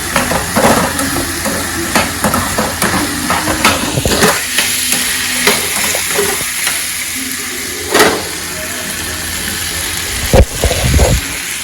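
Onions sizzle steadily in a hot pan while being stirred, with a continuous frying hiss broken by repeated scraping and clacking of a spoon against the pan, close and fairly loud, no voices.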